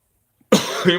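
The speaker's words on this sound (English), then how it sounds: "I'm sorry for that cough." A single sharp, close cough bursts out after a moment of silence, rough and throaty, trailing off with a second smaller cough.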